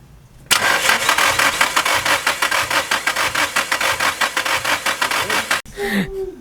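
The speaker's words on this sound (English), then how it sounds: "we're gonna crank it up and see what the compression is on cylinder 2" A blown Nissan S13 engine cranks over on the starter during a compression test, a loud close rhythmic chugging of evenly spaced strokes for about five seconds before cutting off.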